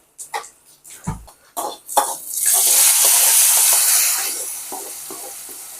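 Onions sizzle and fry in a pan for a Tirunelveli fish curry, with stirring clatter first, then a steady loud hiss that gradually fades, and no talk.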